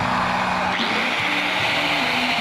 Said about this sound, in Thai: เราก็เปิดสว่านเลย